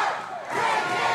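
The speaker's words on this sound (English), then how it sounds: "This bloodthirsty crowd saying break his arm" A bloodthirsty wrestling crowd at a live independent show chants together, a dense roar of many voices filling the space continuously at high volume.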